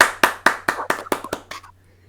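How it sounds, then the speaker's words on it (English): A person claps their hands about seven times in a quick, even rhythm, close and crisp, with the last claps growing softer and then stopping. No one speaks. "So that's a clap."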